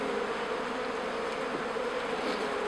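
Honey bees buzzing around a hive feeder, a dense, continuous hum of many wings close by, steady and unbroken with no voices.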